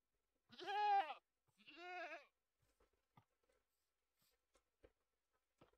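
Two clear goat bleats from a Minecraft farm animal, each about half a second long and close to the listener, followed by faint scattered clicks and soft taps.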